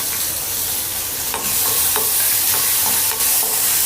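Chopped tomato tipped into translucent onions frying in a pan for a dal dish, stirred amid a steady, loud sizzle with several sharp scraping strokes of the spoon.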